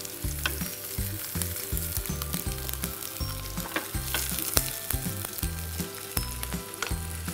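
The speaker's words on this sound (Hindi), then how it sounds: "so we just grill are zucchini" Zucchini sizzles in a hot pan with a bright, continuous crackle and scattered pops, close and alone, over a low pulsing hum in the background.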